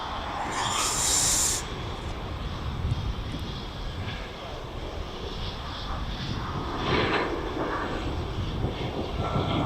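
Distant aircraft taxiing at East Midlands Airport, a low continuous engine rumble and hiss that swells and fades slightly over a noisy outdoor background.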